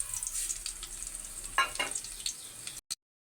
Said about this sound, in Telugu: ఫస్ట్ వెల్లుల్లిపాయలు వేసిన తర్వాత ఆవాలు, జీలకర్ర అయితే యాడ్ చేస్తున్నానండి.